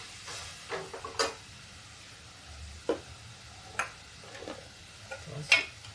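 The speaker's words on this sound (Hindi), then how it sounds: "मसाले को पका लेते हैं।" Masala cooks in a little oil in a pan for a village-style vegetable dish, giving a faint, low sizzle under scattered soft clicks and taps from stirring.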